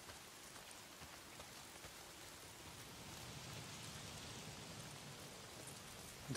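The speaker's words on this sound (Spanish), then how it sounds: "Si no son los engendros, es la puta lluvia." Rain falling in the video game Days Gone, a soft, constant hiss of steady downpour and drops on surfaces, faint and uninterrupted with no voices.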